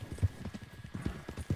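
Horse hooves clip-clop at a steady trot in Red Dead Redemption 2, the beats close and even over a faint backdrop.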